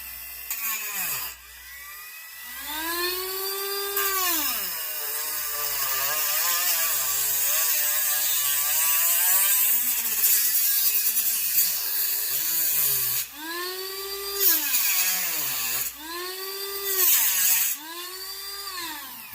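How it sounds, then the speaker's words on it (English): A Dremel rotary tool cuts a hex into a plastic BMW wheel center cap, giving a loud, whining high-speed grind whose pitch swoops up and down as it bites, in repeated passes with short pauses. "I got my Dremel and I'm just going to cut out this hex"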